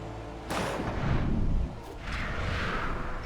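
Game gunfire in Alan Wake: two loud, booming gunshots with rumbling tails about a second apart, heard alone with no talk.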